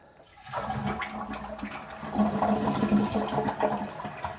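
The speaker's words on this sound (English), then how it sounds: "so we're going to flush the toilet." A toilet flushes during a Toto Washlet seat swap with the water supply shut off, a quick start followed by a rising, steady rush of water close by.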